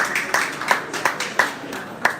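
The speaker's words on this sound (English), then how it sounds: "I think we need to clap for what Ghana" Hand clapping at a press briefing for the African Games in Accra, a steady rhythmic series of sharp claps, about six to seven evenly spaced, fairly close and loud, with no talk.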